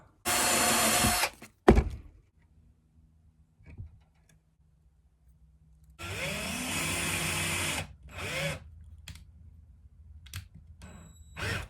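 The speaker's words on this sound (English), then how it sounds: "drill pilot holes and lead holes is what I'm going to do next" A power drill whirs in short bursts while drilling pilot holes in a handmade crankbait fishing lure, a first burst, then a longer run with pitch sliding as it bites, then brief follow-up spurts, with quiet gaps between.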